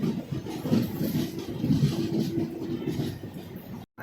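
A train at Rajahmundry railway station on the Tirumala Express route gives a steady low rumble and rolling noise throughout, cutting off briefly near the end.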